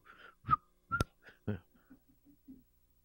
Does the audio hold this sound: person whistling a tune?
yes